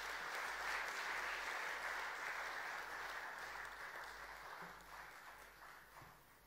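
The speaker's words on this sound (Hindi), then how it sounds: "तालियों से स्वागत करते रहिए" An audience in Bhopal applauds UPSC toppers being honoured, a steady, somewhat distant wash of clapping that slowly tapers toward the end.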